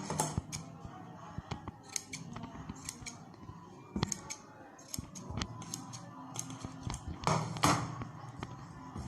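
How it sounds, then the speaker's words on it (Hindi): Scissors snip through fabric while a sleeveless stylish top with a neckline is cut out, giving repeated sharp cuts in uneven bursts, close and fairly loud, with faint handling rustle between snips. "इसको हम 20 सेंटर से काट देंगे।"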